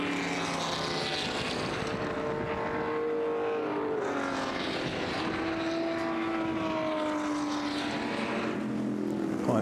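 Group 5 race cars with flat-12, V12 and V8 engines howl past in a high-speed demo session, loud sustained engine tones rising and falling as cars pass one after another, with no voices.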